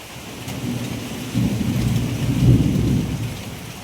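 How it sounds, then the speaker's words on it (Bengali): Rain falls with thunder, a steady hiss of rain on surfaces under a deep rolling rumble that builds and peaks midway before easing, close and fairly loud. "এখন বৃষ্টি শুরু হয়েছে।"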